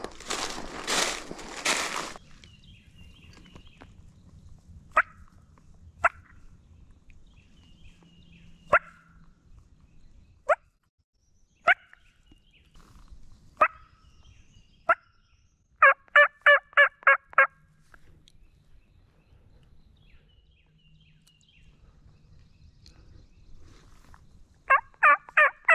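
Distant wild turkey gobbles ring out in short bursts, one early and a rapid series later, separated by long quiet stretches with scattered faint clicks.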